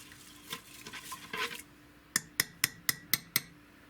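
A spoon stirs rice, herbs and seasonings into liquid in a pot: soft sloshing scrapes come first, then six sharp, evenly spaced clinks against the pot's rim, close and clear with no voices.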